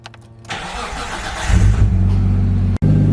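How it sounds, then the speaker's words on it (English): A Nissan R33 Skyline fitted with a Link G4X ECU cranks, fires and revs up close and loud, then settles into a rough idle, with a short dropout near the end. "So I'm just going to quickly run the car up."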